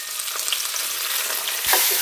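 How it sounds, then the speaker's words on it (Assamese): Sliced onion with garlic and ginger frying in a pan for a chicken curry, a steady bright sizzle with a stirring scrape near the end, close and alone. "এতিয়া এইখিনি মই ভালকৈ ভাজি লওঁ"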